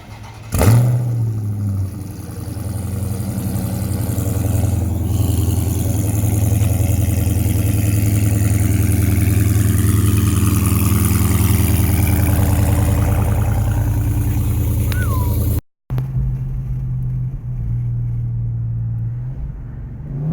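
A Dodge (R/T, Scat Pack or Hellcat) fitted with catless mid pipes cold-starts with a sharp crank and bark, then settles into a loud, deep idle rumble that cuts out abruptly and resumes.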